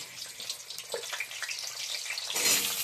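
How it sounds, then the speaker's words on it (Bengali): Potato pieces go into hot oil in a kadai and fry with a bubbling, crackling hiss that swells louder toward the end. No voices are heard. "আমি আলুগুলো ছেড়ে দিচ্ছি"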